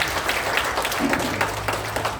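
A church congregation at a revival service applauding for Jesus, a short spell of moderate, scattered clapping from the crowd with faint voices underneath.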